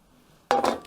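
Water poured from above into a saucepan of sugar for a galaktoboureko syrup, a short splashing burst after a near-silent moment, close and fairly loud.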